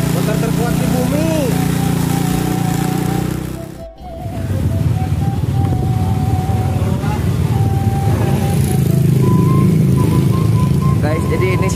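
A motorcycle engine runs steadily on a ride toward Situ Sanghiyang in Tasikmalaya, a close, continuous drone with wind noise, interrupted by a brief dropout partway through, while people talk over it.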